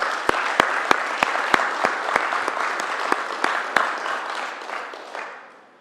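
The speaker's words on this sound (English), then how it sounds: "So I applaud the NGC group under the current leadership and the specific team that carried it out" An energy-company audience at a morning event bursts into applause, a dense, sustained clapping with sharp individual claps standing out near the front, tapering off over the final second.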